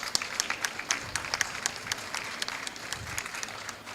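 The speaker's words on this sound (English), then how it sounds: "A big round of applause for all the signatories." Audience applause for the first signatories at a climate action alliance event, a steady patter of many hands clapping with sharp individual claps standing out, moderately near and continuous throughout.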